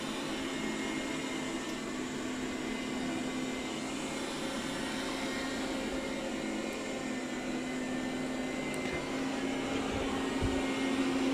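A Roborock Q7 Max Plus robot vacuum runs with a loud, steady whirring hum and airy motor noise, constant throughout with faint brushing knocks near the end, no voices.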